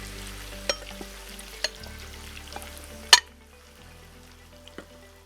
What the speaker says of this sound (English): We're frying the gizzard a bit.